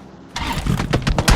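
A car engine in a battle royale shooter game turns over and catches after a brief quiet moment, then runs with rough, pulsing revs up close.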